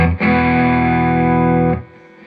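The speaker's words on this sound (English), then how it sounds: "if I put this amp on 5, It's really loud." Electric guitar played loud through a Fender Deluxe Reverb Tone Master amp, one sustained distorted chord ringing for about a second and a half before being cut off.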